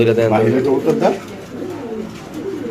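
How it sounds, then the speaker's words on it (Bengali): Soft cooing of a Shohma fancy pigeon rises close by at a pigeon market, with people chatting over and around the low, throaty calls. "দেখেন একটা শোহমা কবুতর"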